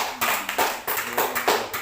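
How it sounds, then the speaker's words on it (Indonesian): Applause from a seminar audience at a training session, a steady crowd clapping with irregular surges of louder bursts throughout, no talking over it. "Kita beri tepuk tangan untuk Mama Ges."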